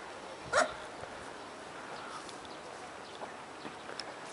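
One sharp, fairly distant bark from a dog rises briefly out of steady outdoor background noise, followed by faint scattered sounds and no talk.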